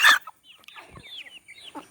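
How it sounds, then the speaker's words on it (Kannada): Giriraja chickens cluck at close range, starting with a sharp squawk and followed by a few short, scattered clucks and chirps with brief quiet gaps between them. "10 ಪೀಸು ಗಿರಿರಾಜನ್ ಕೋಳಿ ಸೇಲಿಗೆ ಆಗಿದೆ"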